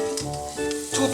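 Onion, garlic and chili padi hit hot oil, a loud close sizzle with a brief stirring clatter running throughout.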